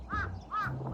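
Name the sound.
birds calling, crows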